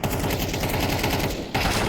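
Rapid automatic gunfire and wallbang shots in a Counter-Strike match crackle in a dense, continuous burst, with a brief dip before firing resumes.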